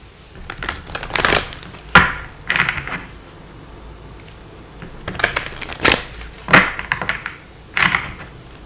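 Oracle cards being shuffled by hand in a few separate bursts of riffling and crisp papery slaps, close and fairly loud, with short quiet gaps between bursts and no talking.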